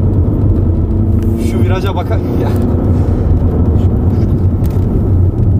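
A Volkswagen Passat B6 2.0 TDI diesel in sport mode, dropping a gear while climbing a gentle slope, gives a loud steady engine drone with a brief shift change partway through, and someone talks over it throughout.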